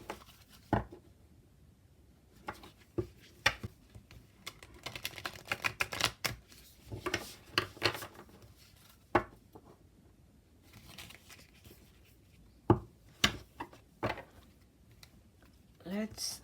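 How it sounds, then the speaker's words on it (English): Oracle cards with a satin finish give crisp papery clicks and riffling bursts in irregular clusters, close up, with soft handling noises between them and a few sharper snaps during a side-to-side shuffle. "Let's try the side to side shuffle as well."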